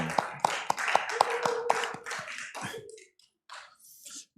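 Church congregation at a Wednesday worship service claps in welcome, with scattered, fairly distinct hand claps at close range mixed with some voices, then trailing off into near quiet.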